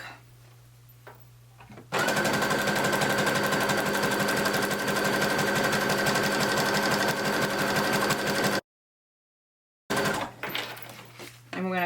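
Sewing machine zigzag stitching elastic held taut onto fabric, running as a loud, steady, close mechanical whir for several seconds, then stopping abruptly, with quieter handling sounds before and after.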